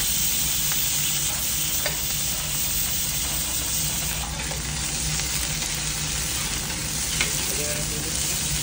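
Onion and garlic sauté in hot oil for oxtail soup, a steady loud sizzle of frying with stirring, constant and close throughout with no talk.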